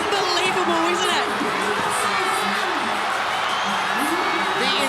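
A packed arena crowd at a strongman competition roars and cheers steadily at the Kudos Bank Arena, with shouts and whoops rising over a loud, continuous wash of noise while a commentator talks over it.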